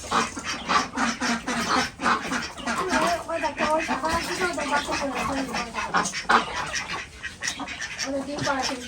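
Ducks quack and honk close by in a backyard flock kept with chickens, repeated raspy calls running throughout while a person talks over them.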